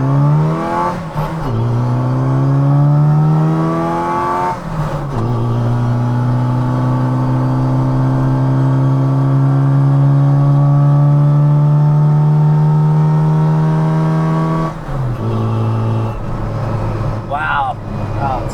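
A modified Mini Cooper hot rod engine pulls hard while driving, its loud rising drone climbing steadily through long gear pulls with brief dips at shifts, heard close from inside the car.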